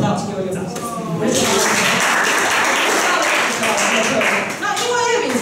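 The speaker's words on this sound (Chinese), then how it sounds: "请给我一个掌声" Applause from an audience at a Chinese-language talk event swells after a speaker's line and holds as a loud, dense burst of clapping for several seconds, with a voice talking briefly before and after.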